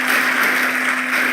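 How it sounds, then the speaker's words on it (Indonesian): Audience applause at an Indonesian academic ceremony honoring a professor and promotor, a steady dense wash of clapping filling the whole stretch with a constant low electrical hum beneath. "kita berikan tepuk tangan yang meriah beliau"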